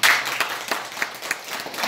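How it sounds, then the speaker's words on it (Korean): Scattered applause from a small congregation at a Daejonggyo worship service, with uneven claps over a steady murmur, moderately close and fairly light throughout. "우리 전리님에게 박수 한번 주세요"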